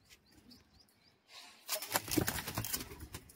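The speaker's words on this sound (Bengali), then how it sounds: "পায়রাগুলো এখানে ছাড়ো দেখি।" Madrasi pigeons, a cross-bred loft, burst into wing flapping after a quiet start, a loud flurry of beating wings lasting over a second with faint background noise.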